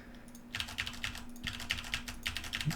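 Fingers tap on a computer keyboard in a quick, close burst of clicky keystrokes, starting after a brief quiet moment and running in uneven clusters to the end.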